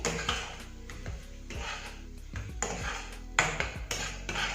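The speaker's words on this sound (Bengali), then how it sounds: "সব মশলাগুলো আমি ভালোভাবে নাড়াচাড়া করে নিচ্ছি" Spices being stirred in a pan while cooking masala macaroni, spoon scraping and clinking against the metal in repeated strokes, fairly close and moderately loud, with no talking.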